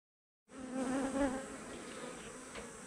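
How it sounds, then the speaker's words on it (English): Honey bee buzzing inside a beekeeper's veil, a close, loud, wavering drone that starts abruptly and continues steadily right by the ear. "Got a bee in my veil."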